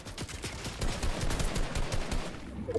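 Rapid gunfire in the video game Fortnite during a squad match, a busy run of sharp shots and bursts crackling close and loud for the whole stretch, with no talk over it.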